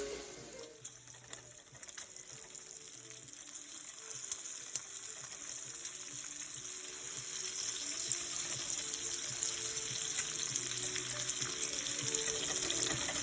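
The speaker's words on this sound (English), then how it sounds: "Let's cook that bacon." Bacon frying in a pan gives a steady hiss and sizzle that grows gradually louder across the clip, with faint crackles over a constant background hum and no voices.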